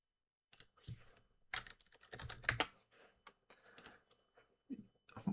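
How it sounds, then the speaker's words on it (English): Fingers type on a computer keyboard in irregular bursts of clicky keystrokes, close and fairly loud, with brief pauses between flurries. "Why am I typing to you?"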